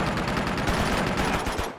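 Sustained rapid machine gun fire in the video game Uncharted 2: Among Thieves, loud and dense bursts rattling continuously for a couple of seconds.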